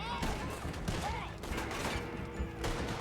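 Gunfire rattles through a shootout in the video game Red Dead Redemption 2, a dense fusillade of overlapping shots and echoes packed into a few seconds.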